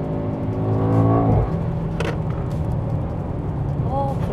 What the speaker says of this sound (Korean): 가속을 해서 직선 구간에서는 좀 달린다.